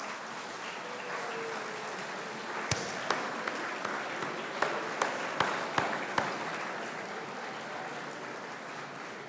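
An audience at a dental school white coat ceremony applauds steadily in a hall, a dense wash of clapping with a few louder individual claps standing out near the middle.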